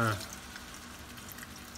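Beef broth pours into a dish with short-rib seasonings, a soft steady liquid trickle close by, following a brief voice at the start.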